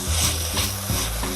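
Yellow, green and red bell peppers and other vegetables fry in a pan for a Brazilian fish moqueca, with a steady close sizzle and a few soft stirring scrapes.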